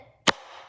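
A single sharp pop from a Nerf gun firing a soft foam dart, close and brief, then quiet room tone.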